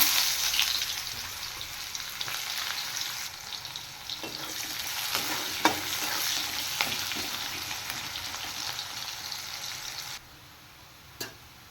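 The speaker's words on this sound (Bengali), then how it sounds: "এবার আমি কিছু কুচিয়ে রাখা পেঁয়াজ ভেজে নেব" Chopped onions sizzle steadily in hot oil, a continuous crackling hiss with occasional spoon clinks, close by and without speech.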